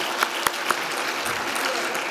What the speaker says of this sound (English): You all clap for her.